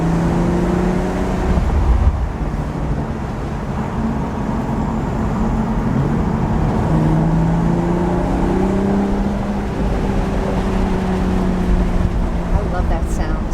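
A Toyota Supra engine accelerating along a road during a 2019 road rally, a steady loud drone with rising and falling tones from close inside the car, with a voice speaking briefly.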